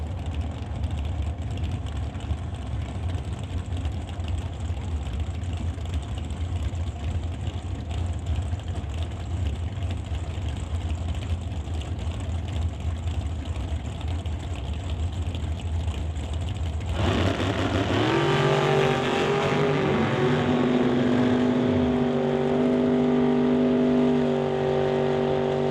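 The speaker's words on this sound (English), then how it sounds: "We bring up Anthony Katnick for TK Performance, racing Danny Hodder in the Spitzer Dragster in Renton," Drag racing engines at a Renton, Washington strip: a steady, loud mechanical drone of idling or staging cars, which shifts midway into a harsher, rising roar with tonal revving as the run begins.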